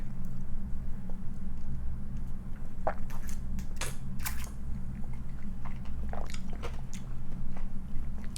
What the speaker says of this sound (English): I'm also chewing on some of those blackberries.